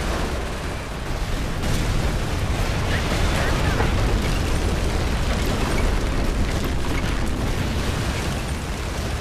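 Mortar explosions in Company of Heroes rumble as a dense, continuous wall of booms and bursts, loud and sustained throughout, with battle noise layered on top.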